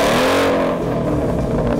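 A Ford Mustang GT engine with a Billy Boat exhaust system revs loudly with a deep, rumbling exhaust note, close up, the pitch rising and then settling.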